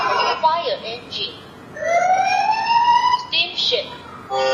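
A fire engine siren from a children's electronic sound book, a rising and falling electronic wail, close and clear, with a short spoken voice before and after it.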